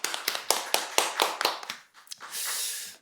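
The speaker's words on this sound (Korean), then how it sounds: "우리 하나님께 영광의 박수를 올려드립시다." A church congregation claps in a loose, fairly close burst of sharp hand claps that thin out, followed by a short wash of hissing crowd noise near the end.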